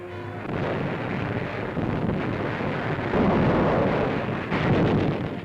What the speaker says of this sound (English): our warships unleash a tremendous pre-landing bombardment